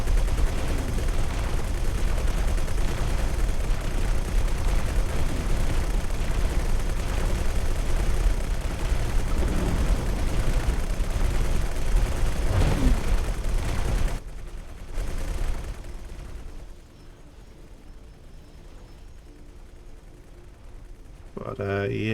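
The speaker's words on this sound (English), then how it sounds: "get in range for all of our turrets to open up" Ship turrets in the space combat game X4: Foundations keep up a dense, roaring barrage with booms for about fourteen seconds, then fade to a quieter rumble while someone talks over it.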